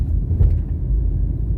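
A car rolls along a road between Palisadoes and Bull Bay in Jamaica, a steady low engine and road rumble heard from inside the cabin, close and continuous without speech.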